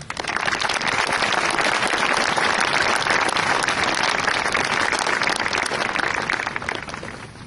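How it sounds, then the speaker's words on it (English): Graduation audience applauding the teachers, a dense, steady roar of many hands clapping that swells quickly and holds for several seconds before fading slightly at the end. "Can we please have an applause for all of them?"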